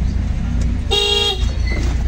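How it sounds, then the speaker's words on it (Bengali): A car horn honks once during a driving lesson, a short loud toot over the steady hum of the vehicle's engine inside the car. "হরেন দিবা"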